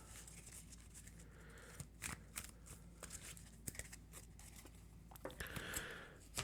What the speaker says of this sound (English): Let us give my deck a shuffle here.